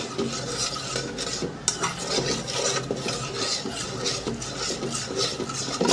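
Spoon stirring onion sabzi with yogurt in a pan, a steady rasping scrape with repeated strokes, close and fairly loud, with no voices.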